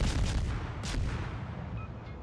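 Naval guns on a destroyer, the Nicholas, firing in World of Warships, a loud broadband blast near the start that rumbles and decays over the next two seconds, with a second sharp report mid-clip.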